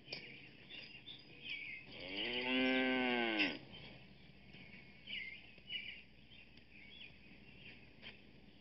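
A single cow gives one long, loud, drawn-out moo in the middle of a quiet, hissy background with faint chirping birds.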